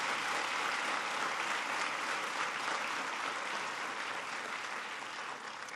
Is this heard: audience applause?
yes